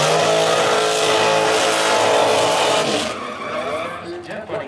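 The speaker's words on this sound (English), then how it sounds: "About to do his first burnout in there at the track anyways." A loud, sustained roar of a car doing a burnout at a drag racing track, tires squealing with engine noise for about three seconds before it fades with crowd noise.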